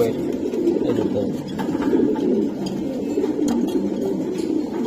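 Racing pigeons coo steadily in soft, low throaty calls at a pigeon sale, several birds close by with a constant murmuring backdrop.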